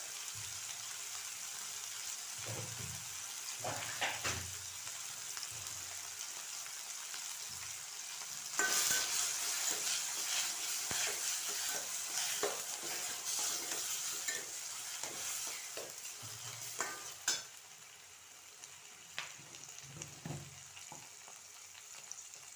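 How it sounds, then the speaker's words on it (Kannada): Broad beans (avarekai) sizzle and fry in a pan while being stirred, a steady close hiss broken by soft scraping strokes, louder for a stretch in the middle, with no voices. "ಚೆನ್ನಾಗಿ ಮಿಕ್ಸ್ ಮಾಡ್ತಾ ಇದ್ದೀನಿ ಅದು ತುಂಬ ಫ್ರೈ ಆಗಬೇಕು"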